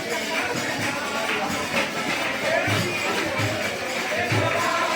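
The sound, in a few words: crowd with kirtan singing at Bhandirvan temple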